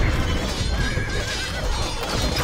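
A horse neighs in the Honfoglalás strategy video game, a clear wavering whinny over a busy bed of game sounds and low thumps, with a voice talking faintly in the background.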